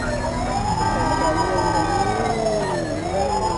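Wailing ambulance siren in a GTA video game, loud and continuous with rising and falling sweeps over a steady vehicle drone, heard up close without speech.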